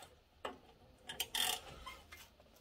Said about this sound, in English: after you tighten these down, make sure they're tightened very well, especially because I'm using just a tiny little wrench